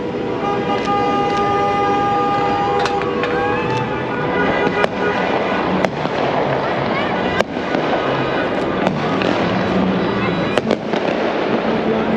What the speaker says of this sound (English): dancing in the street, shooting fireworks